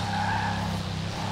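A race car skidding in the Forza Horizon 4 driving game, a sustained tire squeal over a low engine drone, loud and continuous for just over a second, with no talk.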